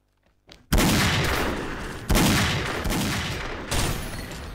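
Heavy gunfire in the online shooter XSHOT, Ghost Mode: loud, dense bursts of automatic fire that roll on continuously and restart in three surges, close and with no talk over them.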